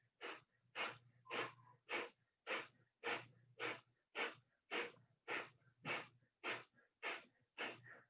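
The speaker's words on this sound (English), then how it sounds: "breath of fire, we exhale sharply through the nostrils and the inhale happens naturally" Breath of fire breathing exercise, with fifteen sharp, evenly spaced nasal exhales pumping at a steady quick rhythm, close and fairly soft, each followed by a quiet passive inhale.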